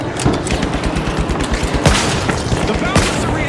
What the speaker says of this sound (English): UFOs are hovering above our contestants and shooting down on them.